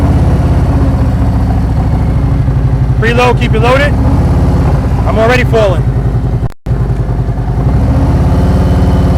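A motorcycle engine idles with a steady mid-pitched chug throughout a riding lesson, loud and close, while someone talks over it and the rumble briefly cuts out near the end.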